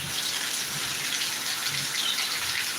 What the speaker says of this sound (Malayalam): നല്ല അടിപൊളി മഴയാണ് പെയ്യുന്നത്